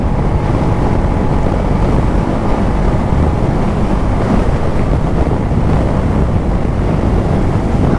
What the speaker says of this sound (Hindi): हवा बहुत तेज चल रही है यार यहाँ पे भी